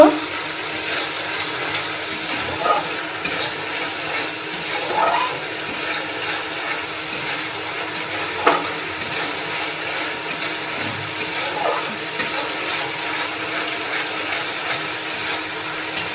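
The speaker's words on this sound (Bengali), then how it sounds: "পালং শাক যে পেস্ট করে রেখেছি তা দিয়ে দেবো" Spinach paste goes into spiced masala frying in a pan for palak paneer, producing a steady, fairly loud watery hiss and bubbling with a few soft stirring knocks.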